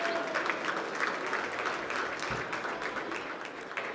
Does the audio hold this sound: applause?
yes